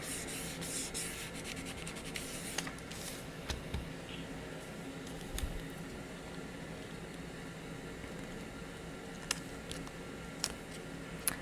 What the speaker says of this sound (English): You're slowly picking up this backing paper as you're rubbing it down.